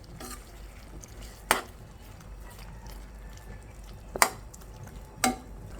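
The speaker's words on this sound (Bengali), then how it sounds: "এই যে দেখুন, একটু নেড়ে ছেড়ে দিচ্ছি।" Fish curry with spices and gondhoraj lemon is stirred in a pan over low heat, giving a faint, quiet simmer broken by a few sharp spoon clinks against the metal.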